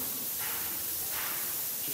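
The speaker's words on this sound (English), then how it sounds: "it'll sound like a nice normal spray, just like they're spraying an aerosol can" An airbrush sprays paint during scratchboard work, giving a faint, steady hiss that swells in a few soft bursts.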